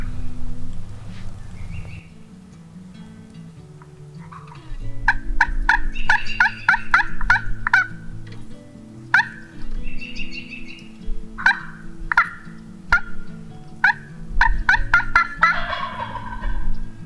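A wild turkey gobbles loudly and close in Manitoba turkey country, several rapid bursts repeating across the stretch with brief pauses between them and low outdoor noise underneath.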